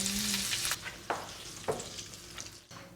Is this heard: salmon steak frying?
yes